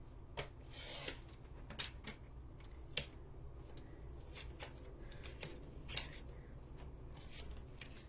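Scissors snip repeatedly through card stock while trimming a gatefold birthday card. The crisp cuts come in an irregular rhythm, close and fairly quiet, with no talking.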